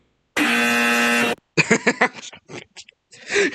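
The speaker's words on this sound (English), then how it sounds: "Whooper, why did you custom install a loud and correct buzzer on your podium?" A loud, harsh buzzer on a debate podium blares for about a second, followed by a burst of rapid, choppy sounds.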